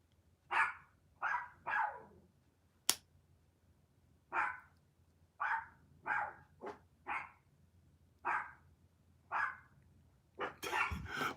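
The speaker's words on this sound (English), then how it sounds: "They're both barking." Two dogs bark indoors in a home, a series of about a dozen sharp single barks spaced irregularly, moderately close, with a brief clatter near the end.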